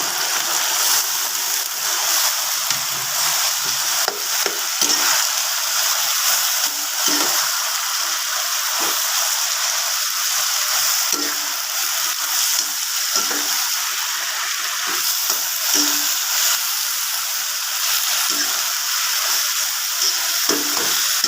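Kale and pork belly stir-frying in a pan: a steady, close broadband sizzle with intermittent soft scraping and stirring clatters throughout, no voices.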